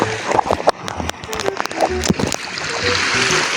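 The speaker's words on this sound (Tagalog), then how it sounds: "Guys, yung aso po ngayon, yan na po yung aso yan guys na lumalangoy." A dog swims in the sea, splashing through the water in a steady run of close, wet splashes while people talk nearby.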